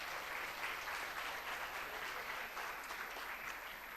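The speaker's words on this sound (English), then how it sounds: "Dr. K. Salil Kumar, our principal, a warm round of applause." A hall audience at a first-year MBBS orientation gives warm, steady applause for the principal, continuous dense clapping with a faint high electrical whine underneath.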